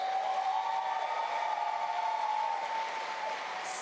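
Audience applause at the NYC public schools State of the Schools event for the student MCs, a steady wash of clapping with a faint tonal hum running underneath, even in level throughout.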